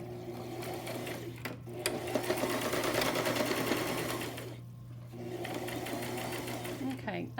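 A sewing machine runs steadily, stitching a few inches along lined-up fabric edges, with a brief pause partway through and another near the end; the motor hum is close and continuous.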